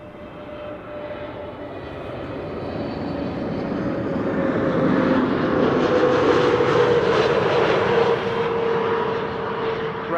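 A British Airways Airbus A320neo arrives at Amsterdam Schiphol, its engine roar swelling from moderate to loud and holding strong near the end, steady with no talk.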